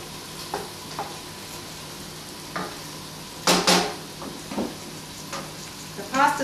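Thin slices of prosciutto di Parma frying in a pan, a steady soft sizzle with a few sharper crackles and stirring clinks scattered through.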